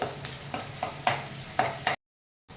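Onions fry on a high flame in a pan for chicken curry, with a quick rhythmic series of spatula scrapes over a low sizzle. The sound cuts off to silence, then a faint sound returns.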